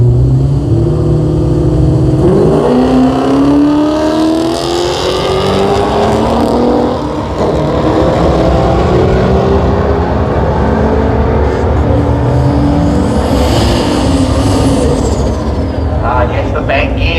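Stick-shift Mopar drag race cars at a Mopar Sunday event give a loud, continuous engine roar with rising and falling revs across the whole stretch, and voices talk underneath.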